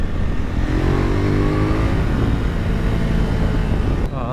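A 2024 KTM 990 Duke twin-cylinder motorcycle accelerates hard, its engine note rising steadily through the gears toward about 4000 rpm, loud and close, with wind noise over it and a brief shift near the end.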